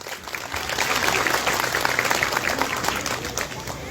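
A crowd at a Mother's Day celebration in a Q'eqchi' community claps for a contestant, a lively burst of mixed hand claps and voices heard fairly close.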